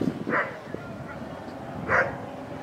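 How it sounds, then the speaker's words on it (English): Dogs at a campground bark in two short yapping bursts a moment apart, heard at moderate distance over a murmur of voices and outdoor background noise. "A lot of dogs."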